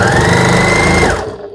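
A Janome 1600P-QC sewing machine stitching through eight layers of denim, a loud, steady mechanical whir with a rapid needle rhythm, running alone for about a second before winding down and stopping.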